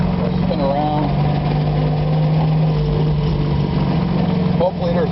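A Bug Eye car's engine idles steadily at a standstill in first gear, a loud, even low rumble with a constant hum throughout, and someone speaks briefly over it.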